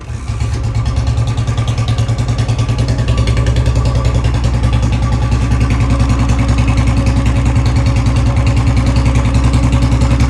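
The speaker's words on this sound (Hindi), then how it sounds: "दोबारा स्टार्ट करते हैं नॉर्मल करके, फिर देखते हैं भाई क्या कुछ सीन है इसका हैवी साउंड वाला।" A Royal Enfield Bullet motorcycle fitted with a heavy sound exhaust kit runs loud and close, a deep, steady thumping engine beat that holds throughout with slight rising revs.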